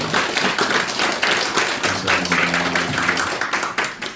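A church congregation at a Christmas service claps together in a sustained burst of dense, many-handed applause, with faint organ or keyboard tones underneath.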